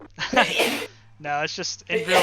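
A single brief sneeze bursts out between stretches of close conversational speech, recorded from a commentator during an iRacing 24 Hours of Daytona online race broadcast.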